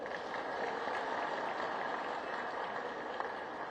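Steady, dense applause from an audience welcoming a planning and electricity minister at a public political gathering, heard somewhat distant and continuous without a break.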